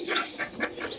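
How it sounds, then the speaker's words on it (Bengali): Two young pigeon chicks held in a hand give a short run of thin, high chirps, with soft fluttering of wings close by. No one speaks. "এই দেখেন 2টা কিউট কিউট কবুতরের বাচ্চা"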